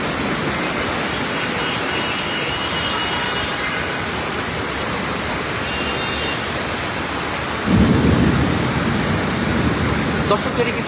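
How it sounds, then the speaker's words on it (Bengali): A rainstorm in Dhaka near the metro rail line brings a heavy, constant roar of rain, with a deep thunder rumble swelling loud toward the end. "বজ্রপাত সেটি আসলে বিদ্যুৎ চমকানোর শব্দ আপনারা শুনছেন"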